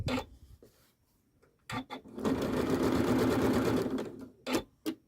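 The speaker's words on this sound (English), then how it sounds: "I'm just going to take one stitch across there because it's not going to be quite so much bulk going in" A Janome sewing machine runs steadily for about two seconds, stitching needle-turn appliqué, with short start-stop bursts of stitching before and after the main run, close and clear.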